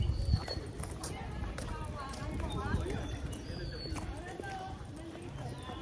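A red horse's hooves clip-clop at Clark Safari Adventure Park in a faint, uneven patter, with people talking over them and birds calling in the background.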